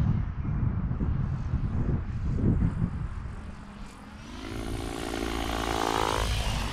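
A Blade 700X RC helicopter motor idling: after a few seconds of gusty wind noise, a steady whining hum with a slightly rising tone comes in close and holds.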